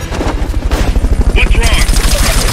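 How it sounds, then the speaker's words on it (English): Rapid bursts of gunfire from an enemy attack in Metal Gear Solid Peace Walker, loud and close in a fast steady rhythm, mixed with other game sounds. "Enemy attack? We're being shot at!"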